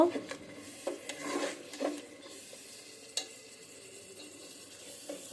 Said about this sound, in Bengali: কষানো হলেই তেল ছেড়ে দেবে ঠিক আছে আমি কষিয়ে নিই